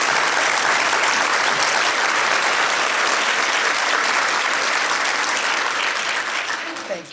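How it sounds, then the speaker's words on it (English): An audience at a campaign kick-off event claps steadily in a dense, loud burst of applause that holds for several seconds before tapering off at the end. "Keep the applause coming for Sentra and Nivean"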